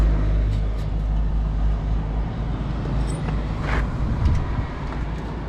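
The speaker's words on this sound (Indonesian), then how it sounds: "si kawan saringan knalpotnya hilang cuy. Suaranya udah kayak ini Vespa string" A Yamaha RX King two-stroke motorcycle engine running with its exhaust silencer missing, a loud, steady, rough drone rumbling continuously close by, heard while riding.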